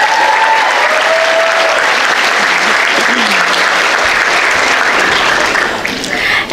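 A large audience at a high school graduation ceremony claps loudly and steadily for several seconds, a dense wash of applause that thins slightly at the end.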